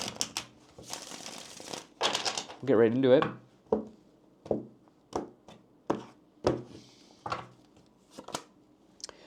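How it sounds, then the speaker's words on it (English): A deck of tarot cards is shuffled and handled up close: a burst of riffling, then a series of soft, evenly spaced taps and snaps, with a short spoken phrase near the start. "let me go ahead and shuffle the deck here"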